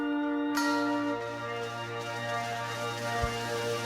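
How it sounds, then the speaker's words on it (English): A tolling bell rings out within a song, a single strong strike with long sustained ringing overtones blending into a steady low musical drone. "Tolling bell."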